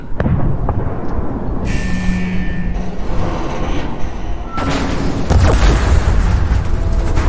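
Explosive charge detonating in Gears of War 4, loud rumbling blasts with a sharp broadband burst midway and a steady heavy roar continuing after, mixed with beeping game effects.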